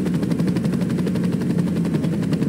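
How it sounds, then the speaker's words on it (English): Helicopter in the video game Saints Row, a loud steady rotor thump with rapid regular blade chop and a low engine drone running without a break, close by with no talk over it. "I got a helicopter right here."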